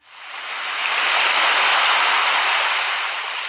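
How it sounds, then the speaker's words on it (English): Huge ocean waves crash over a ship as a loud, broad, continuous roar of surf that swells in and holds for several seconds without voices. "huge waves continued to crash over the ship"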